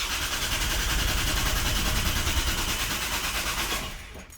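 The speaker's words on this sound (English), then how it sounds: "We're going to give it another crank" The starter cranks a Volvo engine while its fuel system is being primed, a loud, steady, rapid churning that keeps going without catching and fades out at the end.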